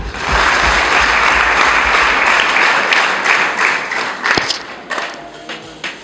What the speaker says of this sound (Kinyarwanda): kaduha Imana amashyi.